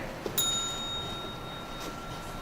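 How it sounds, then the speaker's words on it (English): A timing bell at a school English debate final gives a single bright ring that lingers, then fades into the low murmur of a hall, with no talking. "Each speaker must wait for the bell to ring before they start speaking."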